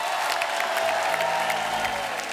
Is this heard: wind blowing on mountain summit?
no